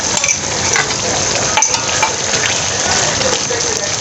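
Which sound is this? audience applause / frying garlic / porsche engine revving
frying garlic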